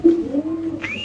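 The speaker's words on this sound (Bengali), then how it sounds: "ইন্দোনেশিয়ান স্প্যানিশ কবুতর দেখতে পাচ্ছেন আপনারা" An Indonesian Spanish pigeon at a pigeon farm gives a clear, close cooing call, a drawn-out low note followed by a brief rising tone near the end, with no talk over it.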